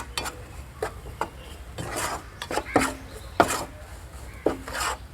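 Ginger, green chili and salt being stirred in a pan for a rose apple pickle: irregular scraping strokes of a spoon against the pan, close and moderately loud, separated by brief quiet gaps.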